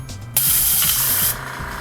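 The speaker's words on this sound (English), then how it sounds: "spray the airbrush out on a clean towel to check out" An airbrush being cleaned sprays water and paint out onto a towel in one close, loud hiss lasting about a second, with quiet background before and after.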